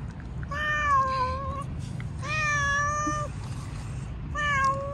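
Cat meowing three times, clear drawn-out meows spaced about a second apart, close by and fairly quiet, alone over a faint background hum.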